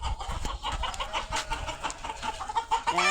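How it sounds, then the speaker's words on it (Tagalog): Many chickens on a farm cluck and call continuously at close range, a dense overlapping chorus of hens with no talking. "Ito naman yung mga manok ni Madam Moody. Sobrang dami din, no?"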